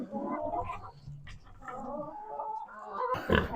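Pigs on a farm grunt and snuffle close by in uneven bursts, with brief higher squeals and a rustling, scraping noise near the end.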